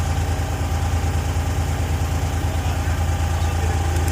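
A car engine with a hard-starting fault and a radiator fan that keeps running idles steadily while it warms up, a continuous low hum and vibration close by.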